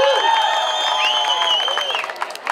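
A crowd at a jaripeo claps and cheers, a steady spread of applause with sustained tonal voices or music running through it, loud and close throughout.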